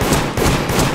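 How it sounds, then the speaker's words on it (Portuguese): A gunshot in the multiplayer horror game Deceit, heard as a few loud, punchy low thumps spaced through a dense, busy game soundscape. "É só um tiro"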